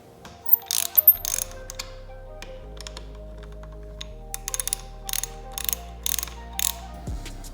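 A ratchet loosens a handguard mount screw on a 2021 Honda NC750X DCT motorcycle, quiet bursts of rapid clicking spread across the clip with brief pauses between them, over a faint low background hum.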